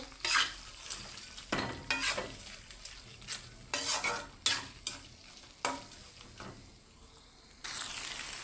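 Taro leaf fry being turned in a pan, with repeated clattering scrapes and knocks of a utensil against metal over a low sizzle, coming in irregular bursts, close and without speech.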